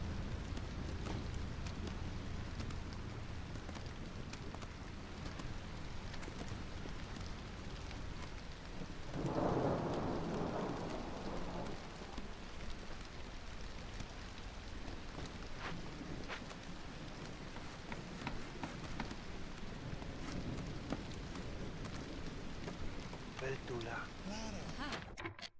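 Rain falls steadily in a storm in the video game Against the Storm, a continuous hiss with a brief low rumble of thunder partway through, all at a soft level with faint clicks scattered over it.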